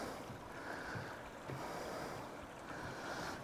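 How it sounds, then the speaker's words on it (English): A small creek flows beside a hiking trail near a little footbridge in the Big Sur redwoods, giving a steady, broad rushing wash of water that holds at an even level throughout, with no voices. "And then we got a creek right here."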